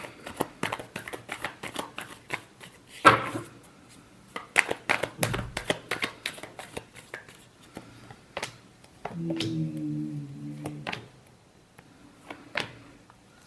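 Tarot cards being shuffled by hand in quick riffling bursts, crisp repeated flicks and taps spread across the clip with a brief pause between rounds, close and fairly loud, no speech.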